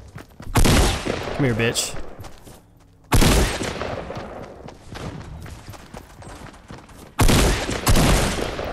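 Shotgun gunfire in Fortnite Battle Royale: three loud, close blasts spaced a few seconds apart, each with a sharp crack and decaying rumble, while someone talks between shots.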